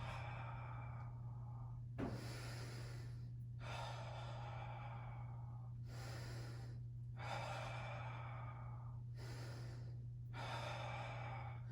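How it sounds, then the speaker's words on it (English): During a beginner mat workout, someone draws slow deep breaths in through the nose and lets long breathy exhales out in a steady repeating rhythm, close and fairly quiet over a constant low hum. "Deep breath in through your nose."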